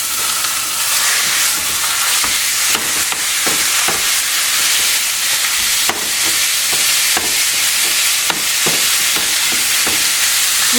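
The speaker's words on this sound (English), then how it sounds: "We just want to brown whatever meat you're using" Minced meat browning in a frying pan, a dense steady sizzle with repeated sharp clicks and scrapes from a utensil breaking up the meat, close and loud with no talk.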